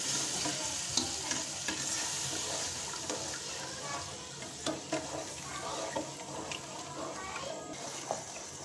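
Sugar and milk cooking down into syrup in a pan: continuous soft bubbling sizzle with intermittent scrapes and taps of stirring, fairly close.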